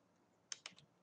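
A few quick keystrokes on a computer keyboard, close and fairly faint, clustered in the second half after a quiet start.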